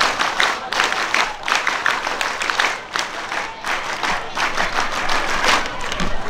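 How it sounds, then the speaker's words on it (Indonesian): A crowd of Scouts performs the tepuk Pramuka, loud rhythmic group clapping in quick bursts and patterns with brief pauses between them, close and energetic, with some voices mixed in. "Tepuk Pramuka."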